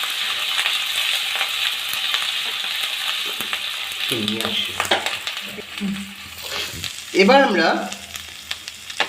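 Dragon chicken stir-frying in a pan on high flame, a steady bright sizzle throughout with occasional clinks and scraping from stirring, and a person speaking briefly partway through.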